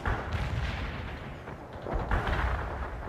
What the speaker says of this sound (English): Artillery strike requested at the enemies